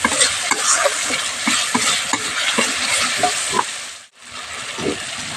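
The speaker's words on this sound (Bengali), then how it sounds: "খুব ভালো করে মিশিয়ে নিতে হবে মশলার সঙ্গে" A spoon stirs potato and eggplant curry with ground spices, nuts and coconut in a pan, giving steady scraping strokes over a continuous close sizzle that dips briefly near the end.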